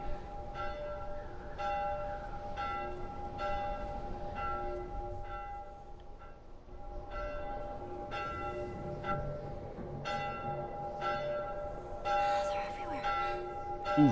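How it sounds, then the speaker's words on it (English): A bell in the video game The Last of Us tolls in a slow, even rhythm of repeated strokes over a low ambient rumble, fairly faint, then a brief clatter near the end. "The bell doesn't sound great."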